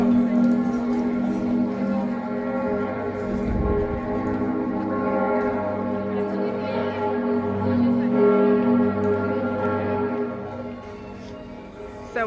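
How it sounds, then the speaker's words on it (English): Church bells of old churches in Zurich, Switzerland chime and ring on, their tones sustained and layered against a busy outdoor background by the river, with faint talk and a deep rumble beneath. "You can still hear the old churches chiming in the background"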